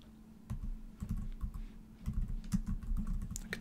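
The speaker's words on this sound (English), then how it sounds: "I can type that in." Rapid, uneven keystrokes on a computer keyboard as a task name is typed into Microsoft Planner, close and fairly quiet, with clicks clustered in bursts and no speech.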